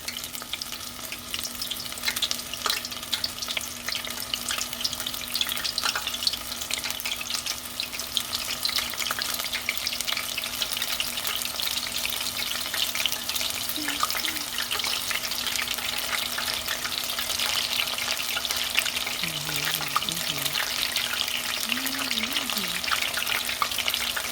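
Beer-battered onion rings frying in hot oil, a steady dense crackling sizzle that runs throughout at even loudness with no break.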